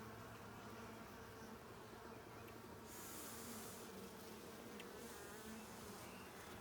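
Dense, steady buzzing of many honeybees close by at a hive, a continuous hum that swells slightly midway, with no voices.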